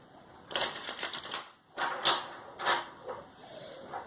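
Cards riffle and slap together in several quick bursts, close and crisp, with short pauses between shuffles and no talking.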